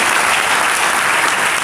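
An audience at a training seminar claps, a dense, loud and steady burst of applause from many hands filling the room without pause.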